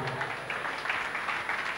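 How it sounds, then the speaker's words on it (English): A church congregation claps together in a brief, steady round of applause, moderately loud and fairly distant. "Give Jesus a clap of him."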